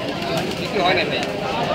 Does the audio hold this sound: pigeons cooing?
yes